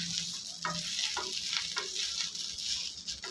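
Drumstick (moringa) leaves with salt frying in a pan, a steady bright sizzle with light crackles and soft stirring scrapes running throughout, close and alone.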